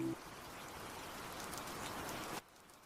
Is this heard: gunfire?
no